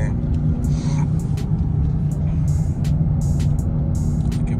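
Engine of a 2021 Dodge Charger Hellcat Redeye, a deep, steady low rumble heard from close by with faint higher clicks and noises over it.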